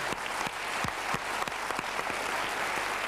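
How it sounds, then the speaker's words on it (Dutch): Studio audience at a 1990 television show bursting into applause, dense sustained clapping from many hands at a steady level throughout. "En een geweldig applaus vanwege ons publiek."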